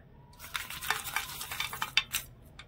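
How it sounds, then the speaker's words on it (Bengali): A spoon scrapes and stirs grated coconut, jaggery and cardamom in a wok, giving soft, repeated scraping strokes with faint sizzling, close and quiet. "এবারে নেড়ে ছেড়ে পাক দিয়ে নেব আর একটা পুর বানিয়ে নেব"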